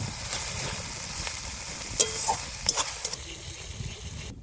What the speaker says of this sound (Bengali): এই পেঁয়াজের উপরে আমি রসুন বাটা আর আদা বাটা দিয়ে দেবো দিয়ে আমি সুন্দর করে ভেজে নেব